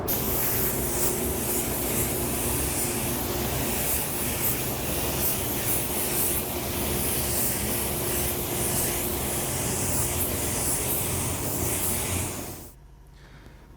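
A spray gun dusts a pearl white paint mix with 10% reducer onto a taped stripe in a flame paint job. The hiss is steady, loud and close, running continuously for about twelve seconds and then cutting off abruptly.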